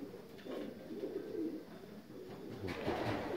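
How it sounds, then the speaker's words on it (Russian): North Caucasian fighting pigeons coo softly and repeatedly in low, murmuring bursts, faint and slightly distant, with no talking. "Птица в основном северокавказская бойная."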